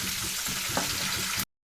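Curry leaves, green chillies and finely chopped small onion frying in a pan, a steady loud sizzle that runs evenly and then cuts off abruptly.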